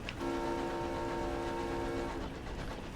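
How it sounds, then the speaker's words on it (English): A train horn blasts in Sunless Skies, a sustained chord of several steady tones over a rumbling rail background, lasting about two seconds before trailing away. "Train!"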